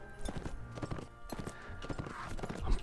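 Horse hooves gallop in the Mount & Blade video game, a fast, steady clip-clop rhythm heard close and fairly loud, mixed with battle noise.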